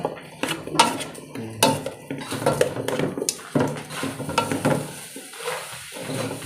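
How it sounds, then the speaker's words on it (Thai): Curry paste for a Thai chicken and glass noodle curry being stir-fried in a pot, with a utensil clattering and scraping rhythmically against the metal over a soft sizzle, close and busy before quieting at the end. "โคเลเครื่องแกงเข้าก่อน คั่ว คนคนตอนนี้เปิดเตานะ"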